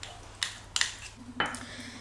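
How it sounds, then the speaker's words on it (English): Butter and golden syrup go into a pot for an oat and ginger crunch slice, heard as a few sharp metallic clinks of utensil against cookware, close and distinct, with quiet gaps between. "So into a pot, add the butter and the 2 tablespoons golden syrup, and then add the crystallized ginger"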